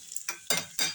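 Dried red chilies dropped into hot oil for a mackerel curry, with four quick bursts of sizzling and stirring close by, each sharp at the start and then trailing off, no voices.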